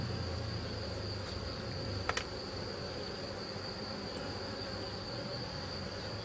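A steady, thin hum of honeybees around an opened hive with few bees present, close and continuous, with one brief click and no talk.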